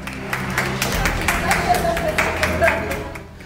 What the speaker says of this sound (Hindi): तालियों की गड़गड़ाहट से छात्रों का स्वागत।